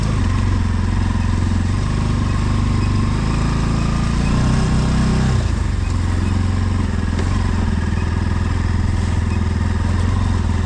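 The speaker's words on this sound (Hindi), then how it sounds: "देख बाइक आ रही है।" A motorcycle engine drones steadily and close by on the Kedarkantha trek route, its pitch shifting midway as it moves, with occasional voices under the constant roar.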